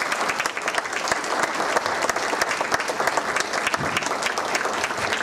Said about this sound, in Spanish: les pido un aplauso para el maestro